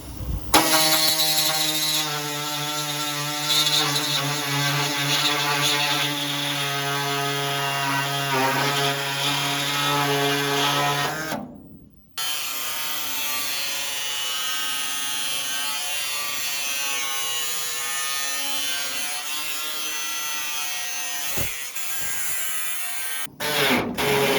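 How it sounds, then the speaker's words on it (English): A power tool cuts through the double-layer steel bed of a 1980 Chevrolet C30 dually truck, a loud steady whine with strong harmonics that drops out briefly midway and then resumes with a harsher grinding tone. "So now we got to make this cut through double layer steel."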